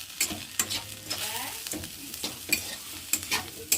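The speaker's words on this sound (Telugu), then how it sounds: "అలా మొత్తం బాగా కలుపుకోవాలి ఇంకా ఫ్రై అయితే అయిపోయిందండి అది" A curry sizzles in a pan while a spatula mixes it, giving irregular scraping strokes and metallic clinks over a continuous close, bright frying hiss.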